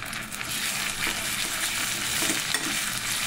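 Ginger garlic paste fries in a pan with a dense, continuous hiss and crackle, bright and close, stirred now and then with soft scraping.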